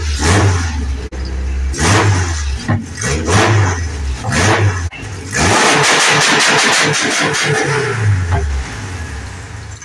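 Engine revving from a Honda Civic hatchback with an H22A engine swap, in rough condition, rising and falling in repeated bursts close by, with a brief spoken word near the start.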